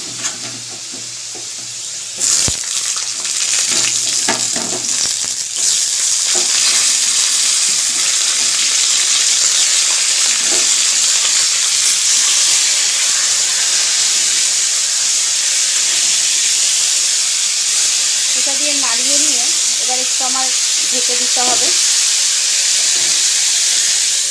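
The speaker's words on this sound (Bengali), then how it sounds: "আমার আলুগুলো প্রায় লাল করে ভাজা হয়ে গেছে" Steady, loud sizzling and hissing of potatoes frying in a hot pan, with occasional stirring scrapes and a brief bubbling patch near the end.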